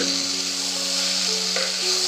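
Koilar leafy greens hit hot oil tempering, giving a loud, close, continuous sizzle and hiss with no talking.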